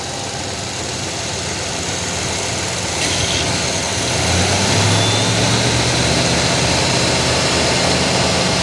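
A 1987 Monte Carlo SS with a 305 V8, suspected of engine knock, idles steadily and then rises in revs about halfway through, the low engine note swelling louder and holding higher to the end.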